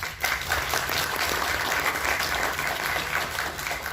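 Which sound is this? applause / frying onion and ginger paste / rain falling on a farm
applause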